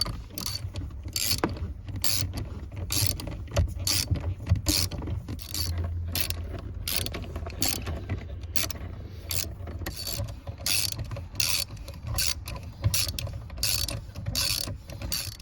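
Screws are driven back into a dashboard panel of a 2005–2009 Ford Mustang after a blower motor resistor swap. Close, repeated bursts of ratcheting clicks come in an uneven rhythm over a low mechanical hum, with no talk.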